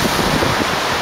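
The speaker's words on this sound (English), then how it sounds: "it's really windy" Wind blowing on a beach, a loud continuous buffeting roar across the microphone with no voices, brief and steady.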